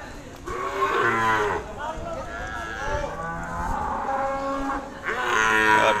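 Cattle moo repeatedly at the Pahing Pati cattle market, several loud drawn-out calls near and far over a busy crowd murmur, with people talking in the background.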